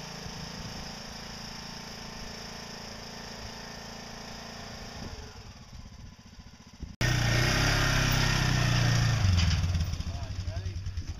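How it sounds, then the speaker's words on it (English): A riding lawn mower engine idles steadily, then after a sharp click it revs up louder and rougher before easing slightly, while people talk nearby. "Move the lawnmower off the trailer here."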